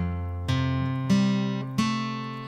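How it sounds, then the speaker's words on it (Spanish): Acoustic guitar arpeggio from a song, three plucked note groups ringing out and sustaining, clear and solo with no voice. "El arpegio número 2 suena así."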